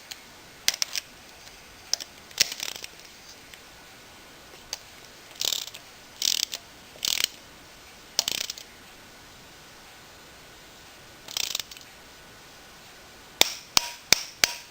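A wrench torquing down a long-throated bolt during a V-Max engine assembly, giving sharp ratchet clicks in short bursts separated by quiet pauses, close and fairly faint.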